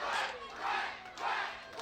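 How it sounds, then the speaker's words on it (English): A wrestling crowd roars and cheers loudly after a chokeslam onto the ring apron, swelling in repeated waves of noise with no one speaking over it. "The crowd really responds to that spot. You could hear it"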